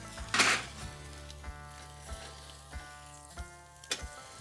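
Cowboy ribeye steak sizzling on a PK charcoal grill, a soft continuous crackle with faint, evenly spaced metallic ticks and a brief louder burst near the start, quiet and with no speech.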